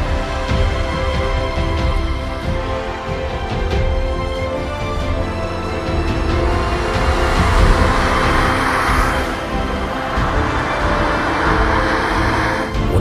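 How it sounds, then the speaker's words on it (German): A 1926 Skoda 430 vintage car starts a classic car rally amid a steady, fairly loud rumble of engines and crowd noise, with a broad swell of passing vehicle sound midway. "Und als drittältestes Fahrzeug ging ein Skoda 430 von"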